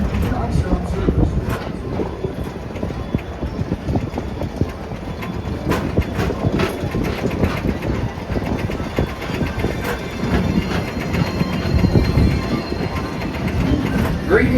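A Peoplemover ride vehicle at Magic Kingdom's Walt Disney World rolls along its track, producing a steady, close rumble with rhythmic clicking and clacking from the wheels that continues throughout, with faint voices in the background.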